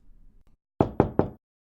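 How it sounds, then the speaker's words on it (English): Three evenly spaced, tentative knocks on a wooden door, close and crisp, following one another within about half a second in near silence. "The Pegasus's mental battle was interrupted by 3 tentative wooden taps. Some pony was at the door."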